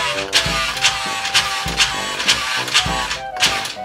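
The small electric motor of a radio-controlled toy army truck replica runs close by, its whirring drive pulsing up and down in quick, regular surges as the throttle is pushed harder.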